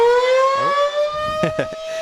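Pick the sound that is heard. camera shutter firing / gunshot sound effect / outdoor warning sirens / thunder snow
outdoor warning sirens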